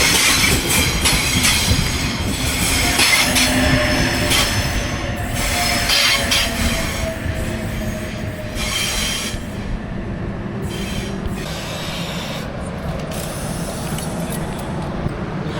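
A Sydney-bound train pulls into Kiama station, wheels squealing and carriages rumbling steadily along the platform, loud and close, the clatter easing slightly as it slows.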